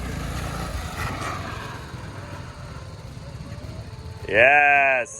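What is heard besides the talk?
BMW GS motorcycles riding during training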